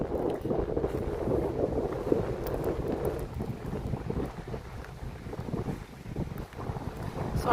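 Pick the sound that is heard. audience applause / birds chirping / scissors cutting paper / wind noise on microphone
wind noise on microphone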